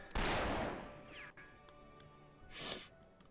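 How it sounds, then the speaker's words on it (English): Gunfire in the Fate/Grand Order game's Permafrost Empire Lostbelt: a loud, sharp gunshot opens with a long ringing decay, and a second blast follows a couple of seconds later, both echoing through an enclosed space. "We can use the ringing of my gunshots to help figure out how to get around in here."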